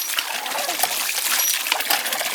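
A hand pump draws water from a hand-dug 9 ft well, producing a continuous close splashing and trickling gush with small metallic clinks, steady and fairly loud throughout.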